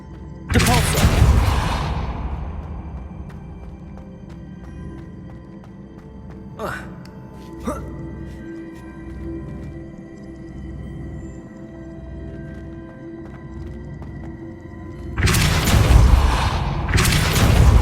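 A spell is cast in the video game Hogwarts Legacy, producing loud bursts of whooshing impact at the start and end, with sharp metallic clicks of a mechanism in between under a low, humming game ambience.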